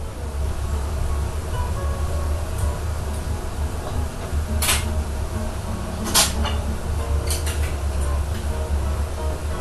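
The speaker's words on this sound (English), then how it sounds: "You got the frying oil, the hands clanking, the light guitar music, bird song or whatever." Restaurant kitchen ambience with a steady broadband sizzle of frying oil over a low hum, punctuated by a few sharp metallic clinks and clanks of pans and utensils.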